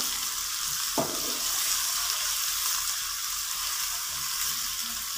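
Browned onions frying with a spoonful of garlic-ginger paste for matar keema, a dense, steady close sizzle with one soft knock of the stirring spoon early on.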